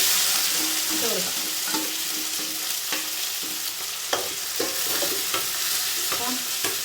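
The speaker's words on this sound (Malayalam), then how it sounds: "ഇനി നമുക്ക് ഉള്ളി, തക്കാളി, പച്ചമുളക്, കറിവേപ്പില ഇട്ട് കൊടുക്കാം." Onion, tomato, green chilli and curry leaves fry in a hot pan with a loud continuous sizzle, while a spatula scrapes and stirs in steady, repeated strokes close up.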